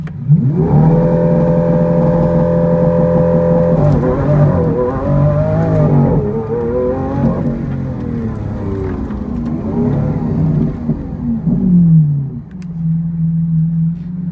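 A Lamborghini Aventador engine revs hard in first gear with the brake held, a loud close roar that rises and falls in repeated surges, steady with no talking.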